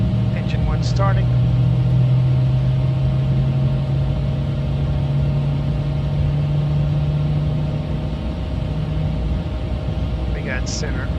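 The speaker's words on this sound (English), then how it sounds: "Engine 1 starting." Airbus A220-300 engine 1 spooling up during start in a flight simulator game, a steady low hum and drone with a rising tone building beneath constant cockpit background noise.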